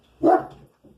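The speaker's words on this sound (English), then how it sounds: "Sorry about my dog." A pet dog gives a single close, sharp bark indoors, followed by a faint trailing yip.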